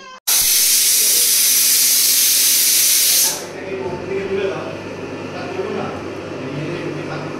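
A pressure cooker with meat inside releases a loud, forceful steam hiss for about three seconds before cutting off, leaving a quieter kitchen background.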